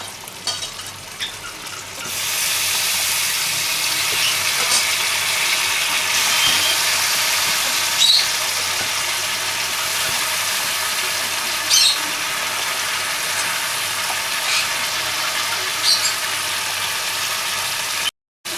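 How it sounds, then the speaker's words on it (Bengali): Pointed gourd pieces coated in salt and turmeric fry in hot oil, a steady broadband sizzle that starts after a quiet couple of seconds and runs on evenly, with faint stirring clinks now and then. "এবার আমি পটলগুলো যে কেটে রেখেছিলাম নুন মাখিয়ে নুন হলুদ সেগুলো আমি তেলের উপরে দিয়ে দিলাম"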